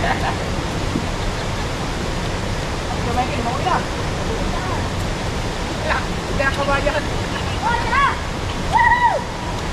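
Flowing water rushes in a steady, broadband wash throughout, with a few faint chirps and calls breaking through near the end.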